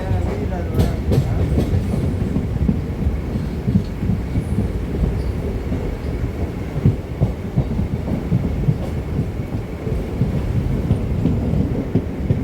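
A train pulls into Ennore railway station near Chennai, a steady loud rumble of wheels and carriages with faint clattering throughout, running continuously without pause.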